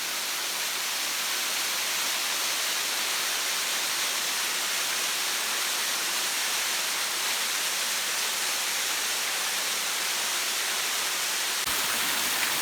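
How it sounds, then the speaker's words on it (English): A waterfall cascading onto rock in a cave-like pit, a steady loud broadband rush of falling water with no pauses, heard close and alone. "There's a view of the same falls from the other side of the pit."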